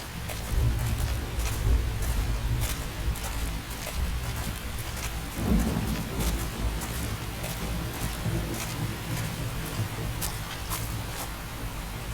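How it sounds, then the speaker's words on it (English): Rain in Xenoblade Chronicles X hisses as a steady, moderately loud wash of noise with soft low rumbles that could be distant thunder, continuing unbroken throughout. "The rain's starting to let up, just in time for sunrise."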